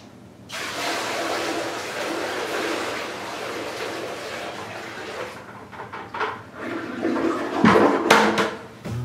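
A bathroom toilet flushes saltwater drained from a home aquarium, a loud rushing gush that fills the room, then gurgles and trickles with small bumps as the bowl refills, close by and with no talk.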